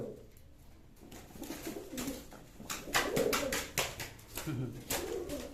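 Pigeons in a loft giving low, throaty coos in short repeated bursts, with wing flutters and rustling close by and soft background chatter.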